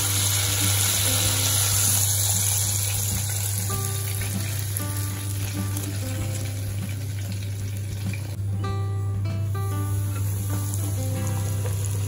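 Home-made KFC-style fried chicken pieces frying in hot oil give off a steady, close sizzle and crackle that runs unbroken throughout, over a low constant hum, with no talking.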